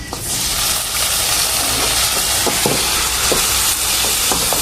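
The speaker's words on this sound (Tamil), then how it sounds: "வெங்காயம் நல்லா வதங்கிச்சுங்க" Onions sauté in a pan over a wood-fired stove, a steady bright sizzle with a few soft scrapes of stirring, close and constant without speech.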